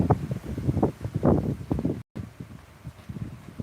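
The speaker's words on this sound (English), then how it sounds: "Look how windy that is." Strong outdoor wind gusts buffet the microphone in low, rumbling bursts, loud and uneven, with a brief dropout midway before calmer gusting resumes.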